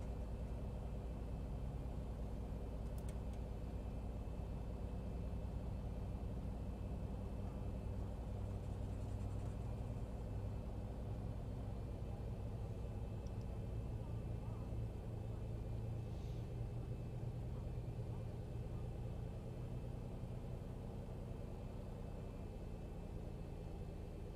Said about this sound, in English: Starter cutout. Engine start procedure completed.